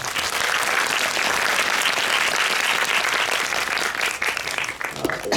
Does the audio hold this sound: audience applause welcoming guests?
yes